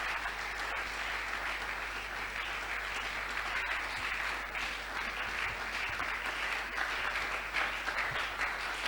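A church congregation claps in response to a preacher's call, a full, even wash of applause held at constant loudness for the entire span without speech.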